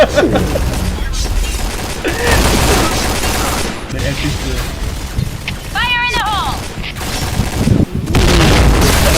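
Grenade blasts and gunfire from the shooter game Point Blank boom loudly in dense, overlapping bursts, with a player's excited voice talking over the action.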